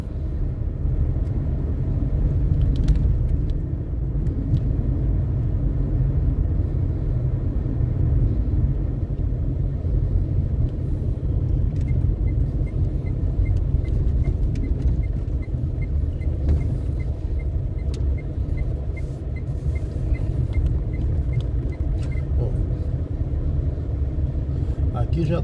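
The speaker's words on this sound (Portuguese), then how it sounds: "Aqui já tá rolando um movimentozinho de carro" Steady low road rumble of passing cars on a city street in the Ponta Negra area of Natal, a continuous broadband engine and tire drone throughout with no speech.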